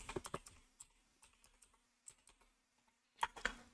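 Keys clatter on a computer keyboard as a search is typed into Google, quick close bursts of taps separated by pauses, faint and with no voice.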